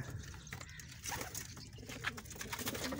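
Soft cooing from kept pigeons at their roost repeats in low, throaty bursts over a faint background hiss, fairly close.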